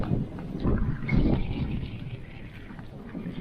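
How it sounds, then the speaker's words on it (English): Strong wind gusts against the microphone outdoors in open country on the road north of Rockhampton, making an uneven low rumble that swells and eases over a few seconds, with no speech. "It's really super duper windy."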